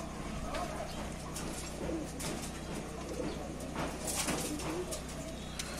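Pigeons coo softly at a loft, low murmuring calls recurring under steady background noise, with occasional brief louder bird sounds.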